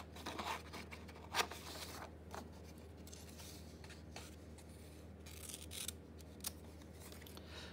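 Scissors rough-cut paper for an envelope journal, with quiet close snips and rustling paper at an irregular pace and a few sharper cuts standing out.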